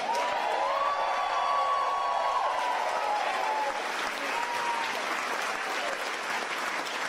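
A crowd at a Ted Cruz re-election campaign stop in Tyler, Texas breaks into sustained applause, a dense wash of clapping that holds steady for several seconds with faint cheering mixed in.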